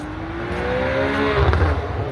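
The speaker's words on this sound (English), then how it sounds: "Ooh, that Porsche sounded good. Oh, that was the Ferrari." A Ferrari engine at a car meet in Peninsula, Ohio, gives a brief rising rev, like a whine climbing in pitch. It ends in a deeper burble, all heard from nearby with no talking.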